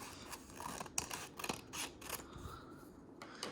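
Scissors snip through craft paper being trimmed for a toilet-tube craft, a quick series of crisp, close cuts and rustles at fairly low volume with no talking.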